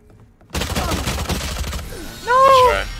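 Bursts of rapid gunfire from the Valorant video game, several loud cracking shots in quick succession, followed by a brief sharper ringing game effect, with a player speaking over the action.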